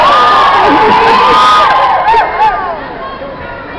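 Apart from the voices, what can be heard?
crowd applauding and shouting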